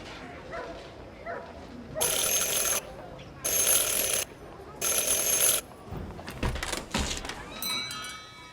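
Three bright rings of a counter bell in Syberia: The World Before, each lasting under a second at an even pace, followed by a few softer clicks and rustles.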